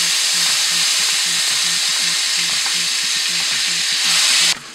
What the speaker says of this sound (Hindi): इसके साथ में ये अनियन और गार्लिक का पेस्ट डालेंगे।